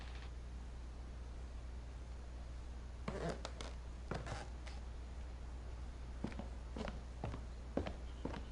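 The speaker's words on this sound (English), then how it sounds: "I heard footsteps and it wasn't mine." Faint footsteps in the video game What Remains of Edith Finch, a few scattered soft steps and creaks over a low steady hum.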